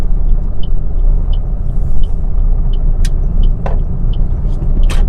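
Inside a car slowing down on a highway with the clutch half engaged, a loud, steady low rumble of road and engine noise carries throughout. Occasional faint clicks and brief whooshes sound over it.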